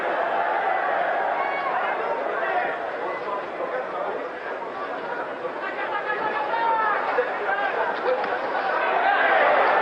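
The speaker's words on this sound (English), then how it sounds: "All of the excitement so far is lodged in this extraordinary French crowd and their anticipation and their hope." Excited French crowd at a boxing match between Carlos Monzon and Jean Claude Bouttier, a dense continuous roar of chatter filling the arena, steady and loud throughout.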